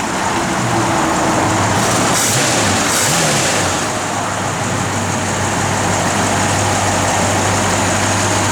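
A 1965 Ford Mustang convertible with a factory A-code 289 V8 of 225 horsepower runs steadily at a loud, close idle. It gives a continuous deep rumble with no talk over it.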